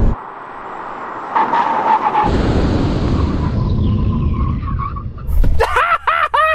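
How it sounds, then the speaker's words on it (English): An Audi R8 and a Porsche Cayenne GT in a straight-line brake test: loud engine roar and tyre noise build, then a hard stop with squealing, skidding tyres and a rising, wavering screech at the end. "stay here for the brake test with the German cars"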